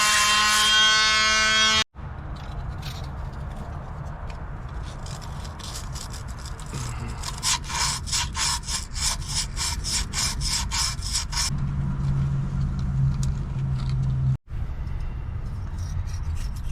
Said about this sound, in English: I'm gonna try to use this Milwaukee sanding tool.